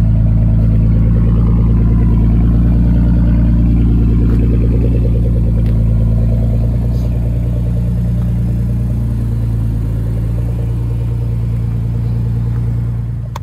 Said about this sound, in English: I got me a 2010 Dodge Challenger SC